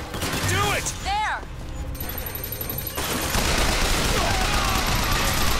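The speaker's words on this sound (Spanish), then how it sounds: "¿Qué, dónde están los disparos? Yo escucho disparos" Gunfire in the video game Bioshock Infinite, with dense rapid bursts of shots dominating the second half after brief game noises and whistling tones, loud and sustained.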